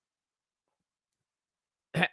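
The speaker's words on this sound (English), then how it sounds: "I will clear my throat." After near silence, a single short, abrupt throat-clearing sound, close and brief.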